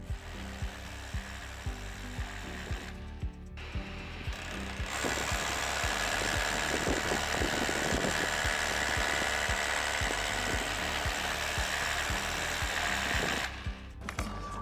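A concrete drill with a hollow bit and dust extraction runs continuously and loudly after a few seconds of rattling start-up, a steady grinding roar that holds until it cuts off near the end.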